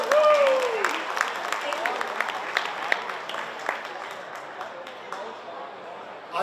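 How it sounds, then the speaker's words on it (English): An audience at a gala breaks into applause, the clapping loud at first and then tapering off over several seconds, with some voices and a rising whistle-like sound near the start. "Give them a round of applause."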